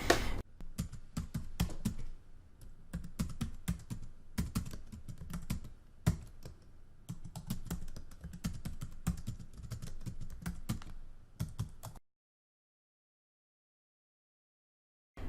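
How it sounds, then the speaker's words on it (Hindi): Rapid, steady clatter of keys on a computer keyboard as a search is typed, close and clear, running for about twelve seconds before stopping abruptly into silence. "तो यहाँ पर हम टाइप करते हैं"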